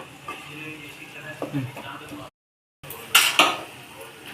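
Spoon scraping and clinking against a pan while bitter gourd curry with ginger-garlic paste, onion and tomato is stirred, giving a few sharp metallic scrapes amid soft cooking sounds, with a brief silent gap before louder clatter.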